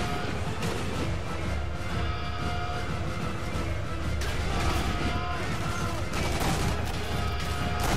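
Gunfire during a shootout in the video game Sniper Elite V2, a dense, continuous wash of shots and crashing impacts over steady game noise, with faint voices mixed in.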